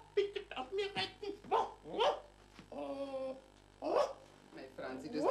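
A dog barks and yips in short bursts with a longer drawn-out whine in the middle, mixed with voices talking close by indoors.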